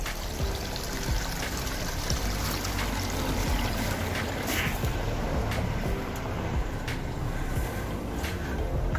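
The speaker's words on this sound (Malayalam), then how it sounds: "നിറച്ചും വെള്ളം ഒഴുകുന്നുണ്ട്." Water streaming down a small hill path in Wayanad's Mayiladippara, a constant dense rushing wash that fills the whole stretch, steady and close with faint knocks.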